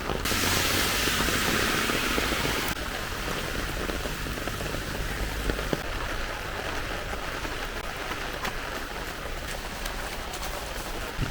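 Steady, dense rain hiss falling continuously at close range, loud and even throughout with no voices.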